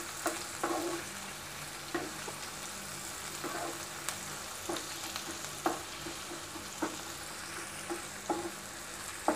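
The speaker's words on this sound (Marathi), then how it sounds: "आपला कांदा आता परतून होत आहे" Onion softening as it fries in a pan, a constant crackling sizzle broken by regular scraping taps of a spoon stirring every second or so.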